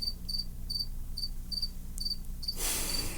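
A cricket chirps steadily in the background in short regular pulses, alone and fairly faint, until a burst of broadband noise covers the last half second.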